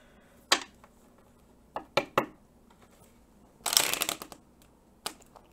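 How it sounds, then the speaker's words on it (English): Tarot cards being shuffled nearby in short, quiet bursts: several crisp snaps and flicks, then a longer riffling flurry, with pauses between. "That was not a good shuffle."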